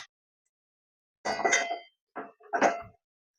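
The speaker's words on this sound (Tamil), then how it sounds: "கடாய் அடுப்பில் வச்சுருக்கேன்" A metal kadai pan set down on a home kitchen stove, two or three close clinking, scraping knocks of cookware in quick succession, with silence before and between.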